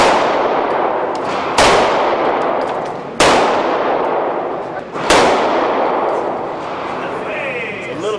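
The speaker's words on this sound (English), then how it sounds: "I'm gonna shoot my Glock 40." Three loud, sharp Glock 40 handgun shots ring out at a shooting range, evenly spaced about a second and a half apart, each with a ringing metallic tail and no talking over them.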